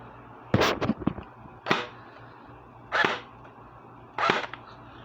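Airsoft Thompson electric submachine gun firing on semi-auto, four sharp separate shots with short gaps between them, the first a quick double, close and loud over a quiet background.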